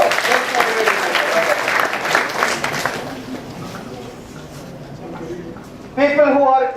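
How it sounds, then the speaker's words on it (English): A crowd at a leadership recognition event claps loudly for about three seconds. The applause then fades to scattered claps, and a person begins talking near the end. "Give a very big round of applause."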